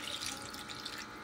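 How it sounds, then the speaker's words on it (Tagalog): Water runs and splashes steadily from a tap while Bisaya-style chicken is being cooked, a close, continuous hiss with no talk. "Tupni tubig."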